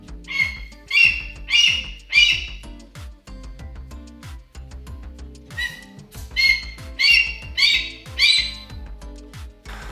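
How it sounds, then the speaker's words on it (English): A female falconry hawk screeches in sharp, harsh bursts during lure training: three or four close calls, a short pause, then another run of about five loud screeches nearby. "She started to screech, and that's not a good thing, screeching birds."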